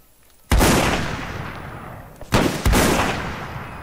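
Revolver gunfire in Mount & Blade: North and South: three sharp, loud shots, one at the start and two close together later, each ringing out into a long echoing tail.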